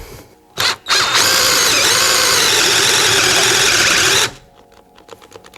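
Vitals Master ARa 1618-2P SmartLine cordless rotary hammer drilling at second speed, a loud steady whine lasting about three and a half seconds after two short bursts, then cutting out to faint handling noise.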